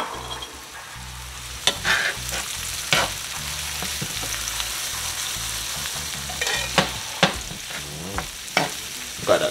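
Fish frying in hot oil in a pan for Jamaican-style pineapple brown stew fish, with steady close sizzling and repeated sharp scraping stirs of a utensil against the pan throughout.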